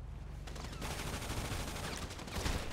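Rapid bursts of gunfire crackle in the GTA Online game, repeated shots firing in quick succession at moderate distance throughout the short stretch.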